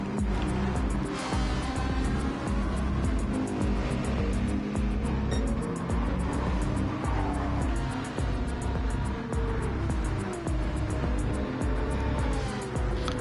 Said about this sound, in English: in that Chevy Corvette American Muscle GT3 race car